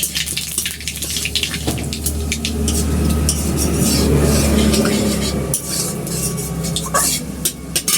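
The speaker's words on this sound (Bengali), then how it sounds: "কালো জিরেটা ভাজা ভাজা হয়ে গেলে" Black cumin seeds fry in mustard oil in a wok with a light sizzle, while a utensil clinks and scrapes against the metal several times, close by, with a low background hum.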